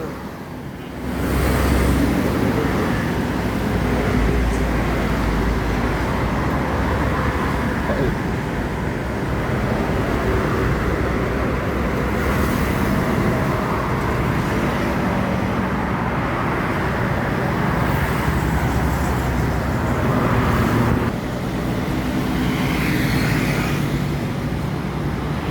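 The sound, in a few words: Lambersa Jet Bus 2 and traffic passing on road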